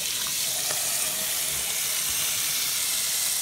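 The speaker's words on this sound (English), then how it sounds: "Fill it up with water." Tap water running steadily into a small dog's water bowl, a continuous broadband splashing hiss that stays even and close for the whole few seconds, with no talking.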